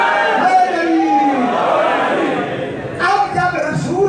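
A crowd at a religious gathering chants slogans in unison, loud and close, in two rhythmic bursts of many voices shouting together.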